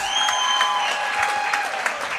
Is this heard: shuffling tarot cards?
no